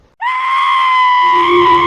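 A man's high, sustained scream of fear rings out loud and close, starting abruptly and holding steady, with a lower voiced tone joining partway through.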